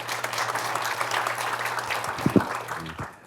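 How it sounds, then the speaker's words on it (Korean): Applause from the audience at a Korean education policy forum, a moderate spread of clapping with a hum underneath, a few sharper knocks near the end as it tapers off. "큰 박수 부탁드리겠습니다."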